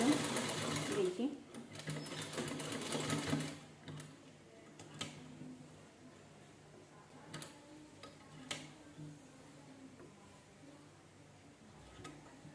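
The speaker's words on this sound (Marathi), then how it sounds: "अशी शिलाई करून घ्यायची." A sewing machine stitches a princess blouse in one dense, fast run of needle chatter for about three seconds. Quieter, scattered ticks and clicks from the machine follow.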